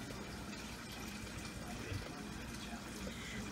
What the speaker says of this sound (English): Let me go over here and wash my hands real quick with soap